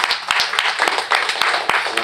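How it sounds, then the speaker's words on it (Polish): An audience at a talk on a community women's basketball club claps in a ragged burst of crisp, overlapping hand claps. The applause is fairly loud and steady for a couple of seconds, with some voices underneath. "Brawa."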